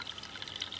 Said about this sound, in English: is running back into the fish tank at the same speed as the water pump is putting water up into the grow bed